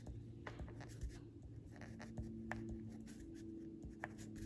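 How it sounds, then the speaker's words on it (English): A pen writing notes by hand on paper, faint close scratching in short irregular strokes and taps over quiet room tone. "I'm going to write down farmer's"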